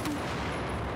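A dense, crackling burst of distant gunfire in the Battlefield 4 video game on the Operation Locker map, a rapid overlapping fusillade lasting about a second without a pause.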